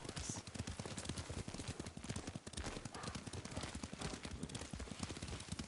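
Rapid, steady clip-clop of a horse's hooves at a ride in the samurai game Ghost of Tsushima, loud and continuous under a thick layer of game sound and background noise.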